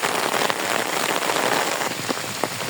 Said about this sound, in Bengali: এই যে মোটামুটি বৃষ্টি শুরু করছে